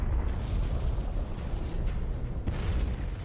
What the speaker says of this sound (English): While the explosion of a Type II supernova showers the universe with heavy elements